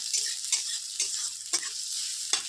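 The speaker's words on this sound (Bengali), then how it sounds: "পেঁয়াজটা রসুনটা আমারও ভাজা হয়ে গেছে একদম কম তেলে দেখো" Onion and garlic frying in very little oil, with a spoon scraping the pan in quick, rhythmic strokes over a soft sizzle.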